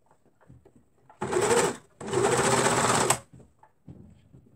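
A sewing machine stitches three layered fabric pieces of shorts together in two loud bursts, one short and one longer, separated by a brief pause, with quiet handling noises around them.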